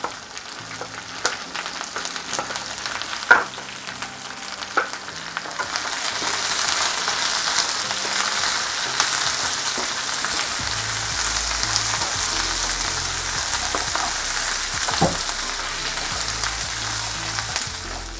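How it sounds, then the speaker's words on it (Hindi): Garlic fries steadily in a hot pan, a dense continuous sizzle that swells in the middle and holds for the whole stretch, with a few faint stirring clicks and no talk. "हल्का सा पक जाएगा लहसुन, तब प्याज डाल दूँगी"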